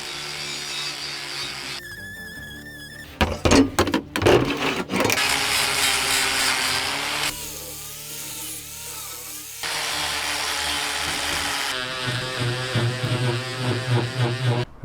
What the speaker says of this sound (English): What it's going to do is help me get all this thick paint off.